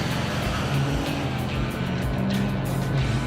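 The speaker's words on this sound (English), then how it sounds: "Oh no, I spun the tires bad" A diesel-swapped Ford Torino wagon launches at a drag strip with its tires spinning, a loud, steady engine roar with broadband tire and drivetrain noise holding constant throughout.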